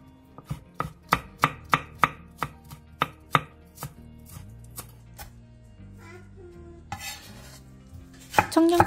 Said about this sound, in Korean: 대파 2분의 1개를 5cm 정도 길이로 자른 뒤 채 썰어주세요.